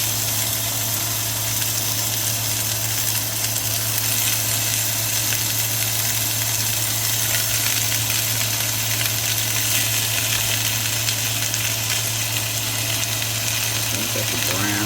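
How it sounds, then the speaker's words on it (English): Meat seared in olive oil in a hot skillet gives a steady, loud, continuous sizzle and crackle with a low hum underneath, unbroken throughout. "we got our skillet with some olive oil in there. We can go ahead and put our meat in"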